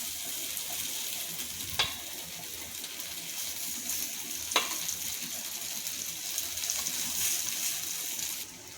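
Vegetable patties fry in a pan over a medium gas flame, a steady soft sizzle with two sharp clinks and faint stirring sounds over it.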